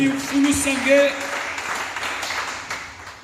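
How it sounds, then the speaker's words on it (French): Church congregation applauding and acclaiming the Lord: scattered clapping and cheering voices, strongest in the first second, then tapering off under a continuing murmur. "Est-ce qu'on peut acclamer le Seigneur?"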